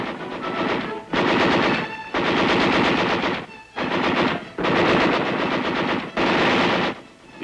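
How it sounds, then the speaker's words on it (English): Machine guns fire from armored combat vehicles in long, loud bursts separated by short pauses, six or so sustained volleys in all. "The enemy fire is returned by our forces with devastating effect."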